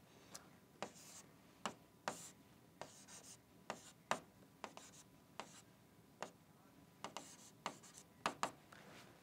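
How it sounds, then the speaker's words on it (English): A formula being written by hand, with a steady series of short, soft pen or marker strokes and taps recurring roughly every half second, quiet and close with no talk. "I will write the formula here."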